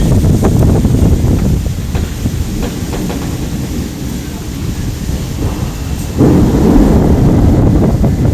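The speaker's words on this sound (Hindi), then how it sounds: "बिजली कड़क रही है बहुत ज़्यादा।" Heavy rumbling of thunder rolls continuously through a violent storm with wind and rain, loud and close with gusty microphone buffeting, swelling again near the end.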